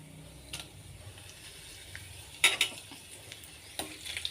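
Dried red chillies fry in hot oil with tempering spices, a faint steady sizzle broken by a few brief crackling bursts around the middle.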